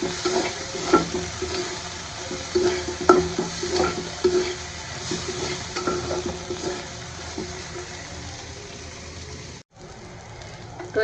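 A boiled vegetable mash frying in oil in a pan, a steady sizzle with frequent scraping and tapping of the stirring spoon close by, a brief dropout near the end, no talking.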